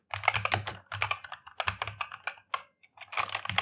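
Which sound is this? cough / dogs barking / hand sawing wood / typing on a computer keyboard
typing on a computer keyboard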